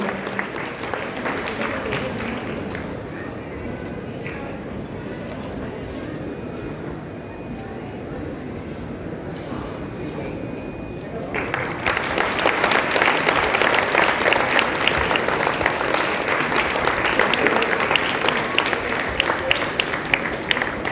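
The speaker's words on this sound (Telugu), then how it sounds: "వారికి మరొకసారి గట్టిగా చప్పట్లు కొడుతూ" An audience at a Telugu almanac recitation gathering breaks into loud, sustained clapping that swells suddenly partway through and continues densely to the end, following a stretch of quieter murmuring and rustle.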